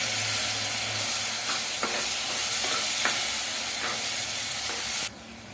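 Masala and tomato puree roast in oil in a pan for a Kashmiri rajma gravy, a steady close sizzle with a few soft stirring scrapes, quieting sharply near the end.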